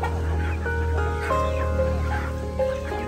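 Chickens cluck and chatter steadily in a chorus on a farm in Surigao del Norte, Philippines, some calls rising higher, over a constant low hum.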